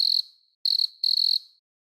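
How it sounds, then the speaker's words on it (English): A cricket chirps in three crisp bursts, each a rapid pulsing trill, close and clean against complete silence. "The cricket says,"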